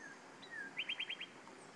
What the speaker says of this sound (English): That's a cardinal singing right there in a tree by me.